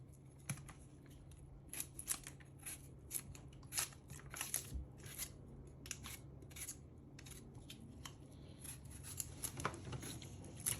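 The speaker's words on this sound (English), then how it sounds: "And cut the yam into small pieces." A knife cuts peeled yam into small pieces, giving a series of crisp, irregular close taps and crunches against a board over a faint background hum.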